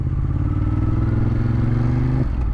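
A motorcycle engine runs steadily at close range with a low, throbbing hum, shifting pitch briefly near the end as the ride continues.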